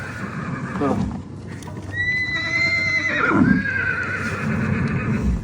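A Mongolian horse gives one loud, close whinny that rises and falls, with hoof clip-clops and outdoor noise before it.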